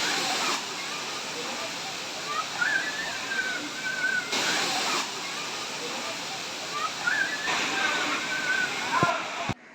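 Water pouring steadily from Five Falls waterfall at Courtallam, a continuous loud rushing hiss that fills the whole stretch, with faint voices and brief splashes now and then.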